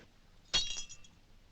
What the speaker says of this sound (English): Does it break because it is faulty or because it is glass?